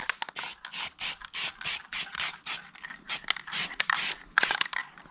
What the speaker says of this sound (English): All right, now it's time for some block sanding. I got some 600 grit paper there.